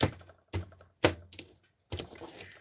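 A tarot card deck is shuffled in four quick, crisp riffling bursts, each starting with a sharp snap and trailing off, with short silent gaps between them.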